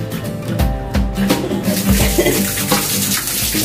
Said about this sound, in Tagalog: Ganyan kalakas ang tubig na dito sa third floor.